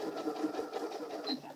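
A sewing machine restarted while stitching fabric, a close, fast rhythmic whirring hum of the needle running steadily through the short stretch.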